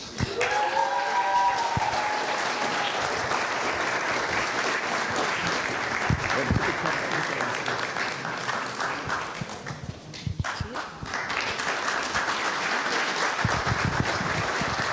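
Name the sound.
audience applause at a film festival award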